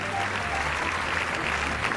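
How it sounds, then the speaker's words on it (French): Audience applause at the 1993 César film awards ceremony, a steady, fairly loud wash of clapping from a large hall with a low hum underneath. "On peut les applaudir."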